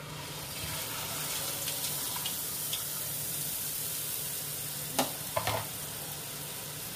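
Sweet theni teegalu batter, jalebi-like, dropped into hot oil, giving a steady close frying sizzle with a few sharp splashes and crackles near the end.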